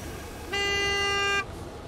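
A car horn in the video game Gas Station Simulator gives one steady, loud honk lasting about a second over quiet background game ambience.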